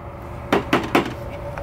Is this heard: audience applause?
no